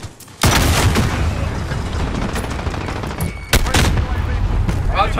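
Sustained bursts of loud video game gunfire in a combat match, dense and continuous with a brief lull before a second heavy volley, no talk over it.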